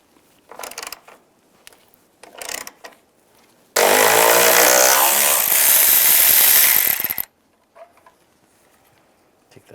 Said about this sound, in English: Now we're going to take some of these bolts off of the hinge. Use a 13mm socket.